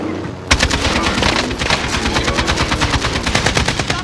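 Rapid automatic gunfire from a video game shooter starts abruptly and keeps up a dense, steady rattle of close, loud bursts for several seconds.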